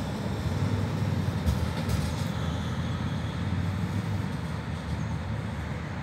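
Continuous low rumble and hum of an electric bus or tram rolling past on a city street, steady and fairly loud throughout with a brief faint high squeal partway, no talking.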